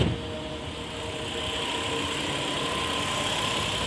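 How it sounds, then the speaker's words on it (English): A Kia Rondo idles with its air-conditioning compressor engaged, giving a steady mid-pitched engine hum with faint whirring tones and slight knocking, continuous and close for a few seconds. "the AC compressor is working right now"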